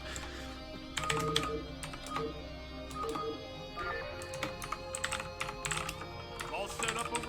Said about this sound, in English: This is a loud ass keyboard.